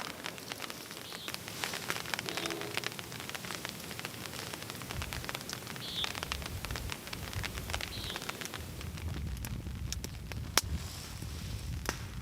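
Rain falls steadily at a campsite at night as a soft, continuous hiss, broken by scattered sharp clicks and taps.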